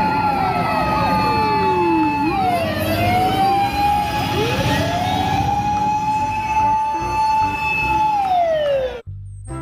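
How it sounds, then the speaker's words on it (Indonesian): Toy fire truck siren wailing loud and close, its pitch repeatedly rising and falling in long swoops, then cutting off abruptly at the end. "Wah, yang ini mobil pemadam kebakaran."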